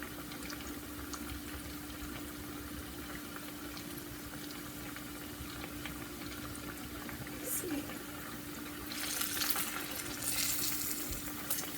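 Corn sticks fry in very hot oil with a continuous bubbling sizzle under a steady hum, growing louder and crackling more toward the end.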